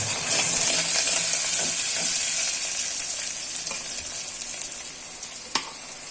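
Green chillies fry in hot oil with curry leaves for an egg kulambu, a loud bright sizzle that starts strong and slowly eases, with a sharp clink near the end and no voices.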